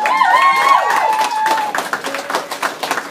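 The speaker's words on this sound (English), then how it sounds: "who said to stop applauding?" Wedding guests applaud at a reception during the couple's first dance, a dense steady clapping that thins toward the end, with cheering voices and a sustained musical tone over it.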